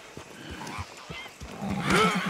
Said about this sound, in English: Thankfully, I have this horse.